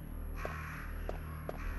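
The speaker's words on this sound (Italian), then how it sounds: "Forrest è stato attaccato da dei corvi" Crows in the PS1 game Resident Evil give about three short, harsh caws spaced over a low, steady background hum.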